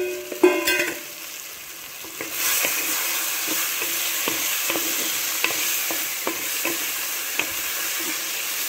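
Boiled eggs being stirred into a sizzling tomato and red pepper masala in a pan, a constant frying hiss broken by a series of spoon scrapes and clinks at an uneven rhythm.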